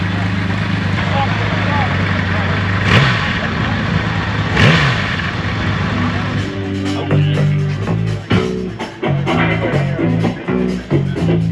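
A six-cylinder motorcycle engine runs smoothly at a motorcycle show, a steady low hum under nearby chatter, with its even idle tone becoming more distinct toward the end.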